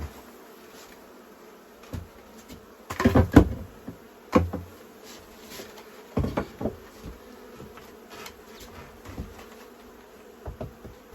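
Honey bees buzzing in and around hives while the hives are readied for winter, a steady close drone broken by sharp knocks and thuds of frames and boxes being handled.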